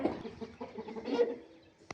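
A fighting rooster for sale gives a short series of low, guttural clucks up close, ending in one sharp brief note.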